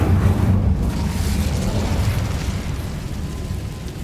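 A fiery blast from the Incendio spell in the Hogwarts Legacy game, a loud roaring burst that rumbles with dense low-end energy and sustains at a steady level for several seconds with no speech.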